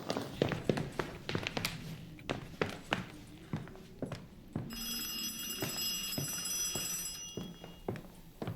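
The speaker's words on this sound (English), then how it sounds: "Phone ringing." A telephone rings in a horror video game, a steady trilling bell that starts partway through and carries on for a few seconds over repeated thuds, footsteps and background game noise.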